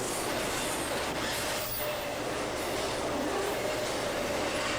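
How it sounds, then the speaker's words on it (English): A train rolls past steadily with a broad rushing rumble and faint wheel squeal, the passing of a train hauled by a 95-year-old steam locomotive, heard without voices. "95-year-old steam locomotive."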